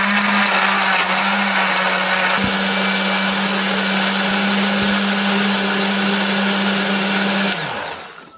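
A blender runs loudly and steadily at high speed, grinding chili, shallots and garlic with a little water, a constant whirring grind with a low motor hum, then winds down at the end.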